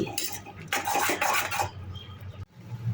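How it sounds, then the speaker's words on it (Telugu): A paneer masala with salt, turmeric and chili being stirred in a pan: a metal spoon scrapes and clinks against the pan in quick close strokes, then trails off into quiet. "ఉప్పు పసుపు కారం ఇవన్నీ వేసిన తర్వాత బాగా కలుపుకోవాలి"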